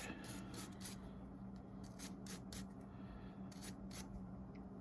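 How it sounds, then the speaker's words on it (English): Quiet, rhythmic scrubbing with a wire brush during an oil change on a 2006 Harley-Davidson FLHTCUI motorcycle, short rasping strokes repeating close by over a low steady hum, with no talk. "Give it a little scrub with the wire brush."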